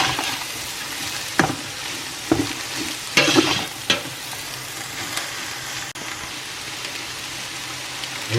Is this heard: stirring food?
yes